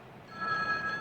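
A telephone rings in a 1970s detective drama, a short clear electronic bell tone that starts abruptly and holds steady for under a second, fairly near and alone.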